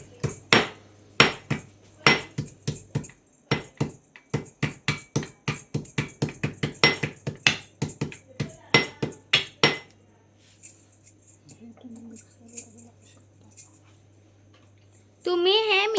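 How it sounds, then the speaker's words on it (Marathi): Peeled garlic is crushed by quick, rhythmic pounding for about ten seconds, with sharp knocks close up, then a few soft taps follow and a voice speaks at the end. "लसूण सोलून लसूण ठेचायचं"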